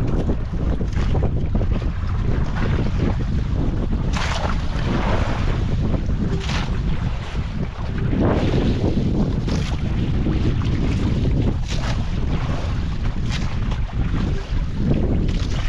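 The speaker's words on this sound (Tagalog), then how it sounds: "Laki ng bangka na nasakyan natin." A boat rumbles across open water, its engine drone blending with heavy wind buffeting and the wash of waves, constant and loud throughout.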